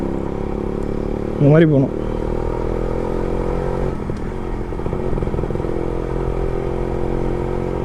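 A Suzuki Max 100R motorcycle is ridden slowly and gives a steady, low engine drone beneath someone talking, with one brief louder blip early on.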